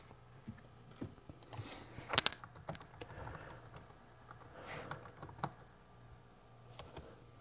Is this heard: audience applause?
no